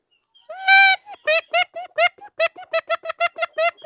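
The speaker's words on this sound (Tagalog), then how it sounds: "nagtitilak yung labuyo doon sa kulungan" A red junglefowl in a cage gives a series of about a dozen loud, harmonic calls. A longer first note is followed by short, evenly spaced cackles, close and clear against a silent background.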